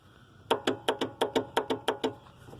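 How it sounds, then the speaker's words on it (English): A riding mower's starter solenoid clicks about ten times in a quick, even series, each click sharp and close by, with a faint hum underneath. "That's the solenoid that starts it."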